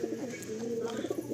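Pigeons coo in low, rolling phrases that repeat steadily through a short stretch, close and moderately loud over a busy background, with a possible voice faintly mixed in.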